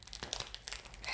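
Plastic packaging around a sweater crinkles and crackles close by in quick, irregular bursts as it is unwrapped, quiet and alone.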